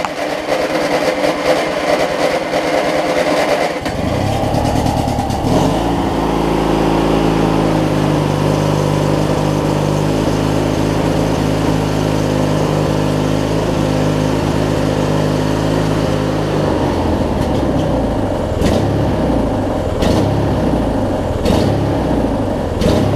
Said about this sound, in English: Still idling weird.